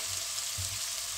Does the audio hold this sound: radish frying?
yes